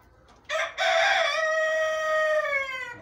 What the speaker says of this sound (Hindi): ये हमारे पास रोस्टर